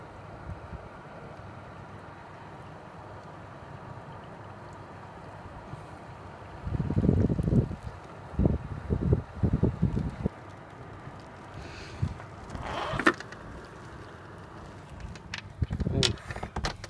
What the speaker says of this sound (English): And also it's very windy as well.